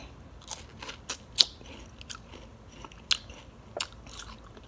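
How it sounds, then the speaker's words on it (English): Close, crisp bites into juicy watermelon followed by wet chewing and crunching, with a few sharper bite snaps standing out against a quiet background. "Watermelon is almost out of season, so I went Whole Foods, got there, and I'm gonna let y'all watch me eat it."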